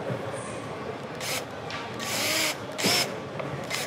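Power drill driving screws into the wooden parts of a tricycle being built, a few short whirring bursts separated by pauses over a steady low background.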